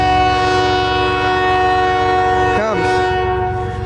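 A CN 385 southbound freight train passes in Port Huron, Michigan, its horn sounding a loud, sustained chord close by over the low rumble of the rolling train, with a brief warble partway through.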